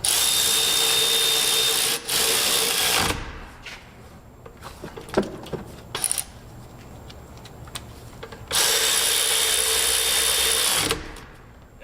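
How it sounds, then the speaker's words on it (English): A cordless power tool tightens brake pad bolts during a rear pad and rotor job, with two loud sustained whirring runs separated by clanks and handling noises. "Then you can grab some cordless"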